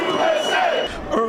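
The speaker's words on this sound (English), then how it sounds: "Former President Trump was greeted with a patriotic chant and applause" Construction workers at a New York building site chant in unison for former President Trump, a loud, close crowd of voices rising and falling in a rhythmic cheer mixed with applause.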